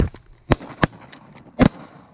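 Shotgun blasts while duck hunting for greenheads and pintail in early December, several sharp loud reports spaced irregularly over about two seconds, close by and outdoors.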